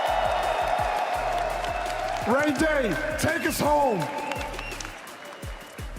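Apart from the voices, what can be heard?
arena crowd cheering and applauding at esports finals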